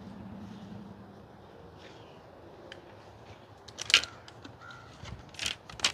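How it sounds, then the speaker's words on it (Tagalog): A few faint crow caws sound in the distance over soft wind and outdoor ambience, with a couple of sharper calls near the end. "Yung uwak. Nagpaparamdam."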